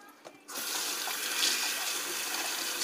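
Hot water from a kitchen tap starts abruptly and runs in a steady, close hiss with no talk over it.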